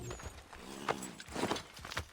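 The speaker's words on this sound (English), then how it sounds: "Ride, my horse, ride." Soft, uneven hoofbeats of a horse in the historical action game Assassin's Creed III, a few faint clip-clop thuds over a low ambient background.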